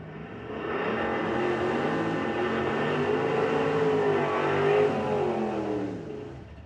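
Drag race funny cars revving at a nitro funny car race event, a loud sustained engine roar that rises and holds for several seconds before easing off slightly, heard alone without talk.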